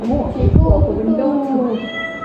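A cat meows loudly and clearly in a drawn-out, wavering call during an animal sound-guessing quiz, with children's voices chattering around it.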